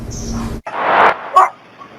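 A dog gives a couple of sharp, loud barks and a yip at close range, with a brief cut between them.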